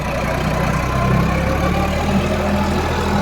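An Eicher 551 tractor pulling a rotavator through wet soil runs with a loud, steady low diesel drone and constant vibration, near and continuous throughout.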